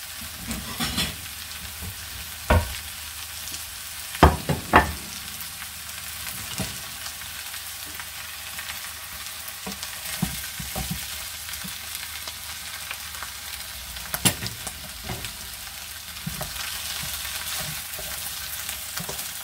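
Rabbit legs browning in a frying pan, a steady moderate sizzle of fat running throughout with a few sharp clicks and taps of a utensil scattered across it, no voices.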